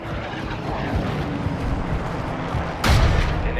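An air strike in the video game Modern Warfare 2 rumbles as a dense, low roar of distant blasts and aircraft noise, ending in one sharp, loud explosion near the end.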